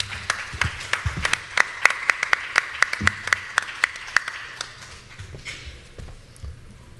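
Applause from an event audience welcoming a speaker to the podium, a run of distinct sharp claps at moderate distance that starts strong and thins out toward the end, with low murmuring underneath.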